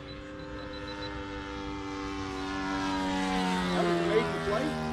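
A 3D printed RC flying wing on its maiden flight, heard as a steady propeller whine whose pitch slowly drops and rises as it passes, growing slightly louder toward the end, with faint voices.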